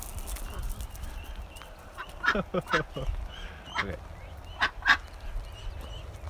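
A few nasal honking quacks from a duck come in short bursts over a quiet outdoor background, with a brief spoken word in between.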